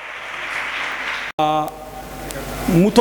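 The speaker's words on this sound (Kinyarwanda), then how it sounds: "Amashyi menshi cyane kuri papa Aboy mu gutekereza Nyakinshasa." Audience applause at a gathering in Nairobi, a short burst of dense, steady clapping that stops abruptly before music and voices take over.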